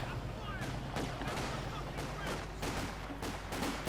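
Faint gunfire and explosions from the strategy game Company of Heroes 2 pop in irregular bursts throughout a short stretch, sitting low in the mix under steady background noise.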